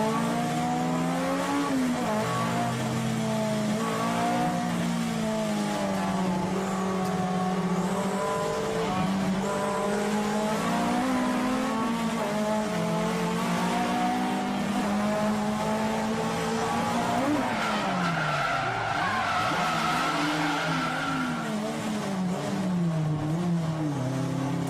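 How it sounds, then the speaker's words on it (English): Drift cars running a twin drift battle at Nakayama, engines revving hard and continuously up close, with tire squeal and skidding layered over the roar throughout, a sharp pitch dip near the end. "When the twin drift gets underway, Hibino teams up with Sato."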